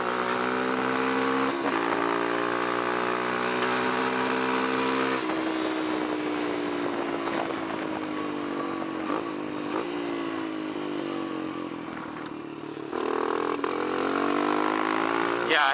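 A Kawasaki KLX140 dirt bike fitted with a KX65 carburetor revs at wide open throttle on a test ride, a loud steady buzzing engine note that climbs and dips in pitch, close to the microphone with no talk over it.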